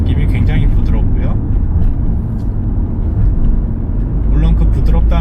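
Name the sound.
car accelerating while driving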